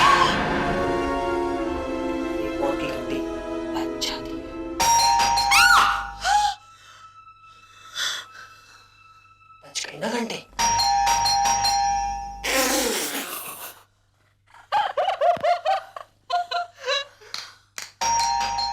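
A doorbell rings several times in bursts in a Hindi horror TV drama, with ding-dong chimes separated by gaps, alongside gasps and tense breathing.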